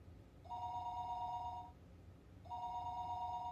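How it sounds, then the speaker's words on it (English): In the Higurashi video game, a telephone rings twice, each a long, steady electronic trill lasting over a second, separated by a pause, moderately loud over a low background rumble. "The phone rang"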